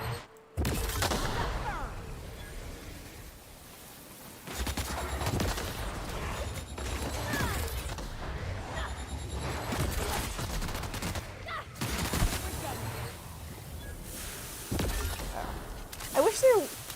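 Gunfire aimed at Raptidon creatures in The Outer Worlds, with repeated sharp shots and shattering bursts in loose volleys over about seventeen seconds, interleaved with game effects and a voice speaking at times.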